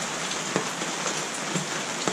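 Steady rain falling outside, a dense even hiss of drops striking surfaces with a few sharper nearby drips, constant and moderately loud with no voices.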